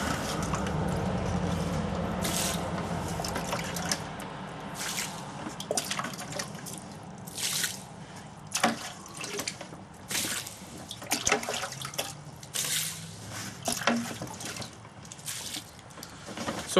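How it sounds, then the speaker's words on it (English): Water poured with a small scoop trickles and drips in small bursts, with scattered splashes and pours at irregular intervals, fairly quiet and close with no speech. "I'm using a much smaller scoop for my water"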